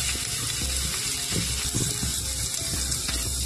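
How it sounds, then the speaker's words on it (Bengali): Chopped onions fry in hot oil in a pan, a steady close sizzle with intermittent scraping clicks as they are stirred, no voices. "পেঁয়াজটা এভাবে নাড়াচাড়া করলাম, নাড়াচাড়া করতে পেঁয়াজটা এভাবে ভেজে নিলাম।"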